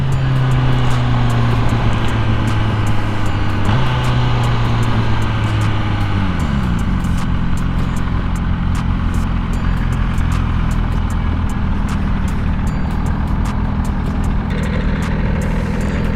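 A 2020 MV Agusta Brutale 1000RR engine while riding, a loud steady drone whose pitch steps down between gears, under constant wind rush.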